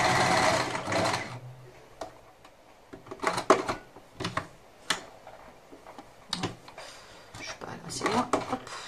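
A sewing machine stitches terry cloth and cotton fabric for washable wipes, running in short loud bursts between pauses, close by. Someone speaks quietly in French under and between the runs.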